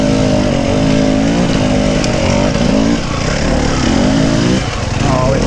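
An enduro motorcycle engine revs hard and steadily while the rear wheel spins on a hard enduro climb, a loud, close, continuous drone with wavering pitch, with people talking over it.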